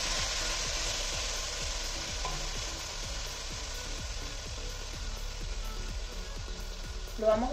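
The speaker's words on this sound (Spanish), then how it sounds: "Lo vamos a sofreír aproximadamente por unos 20 minutos." Tomato sauce sizzles and bubbles in a pan with a steady, soft frying hiss. Regular scraping strokes of a stirring utensil repeat through it, and a brief clink comes near the end.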